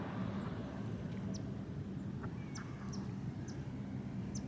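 Ducks at a nature preserve in Spring Creek Park, Queens, New York City, giving several short, faint calls scattered over steady outdoor background noise.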